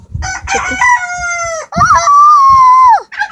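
A loud, close chicken call: a short clucking burst, then a long drawn-out crow that falls off sharply, with no talking.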